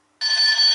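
A Gearbest bedside lamp alarm clock with sunrise light rings out its alarm tone, a bright, steady electronic ring that starts suddenly and stays loud and close for under a second.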